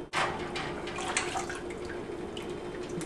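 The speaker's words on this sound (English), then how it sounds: "we're going to actually pour 4 of these 2-cup measuring cups over the grain bag" Water is poured from a two-cup measuring cup over a mini-mash grain bag sitting in a stock pot while brewing a coffee malt stout. A soft, steady trickle and splash runs for a few seconds, fairly quiet and close, with no voices.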